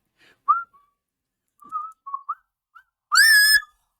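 A parrot whistles short notes in scattered bursts, then a louder, sustained warbling whistle near the end, against near silence.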